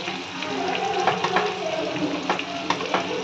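Salt, turmeric and spices frying in a pan for khichuri make a close, steady sizzle broken by light stirring scrapes and taps, with no talking.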